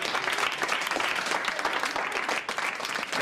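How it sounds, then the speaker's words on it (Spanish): A crowd gathered at a night event applauds loudly and continuously, a thick roar of many hands clapping with faint voices barely showing through. "Un aplauso."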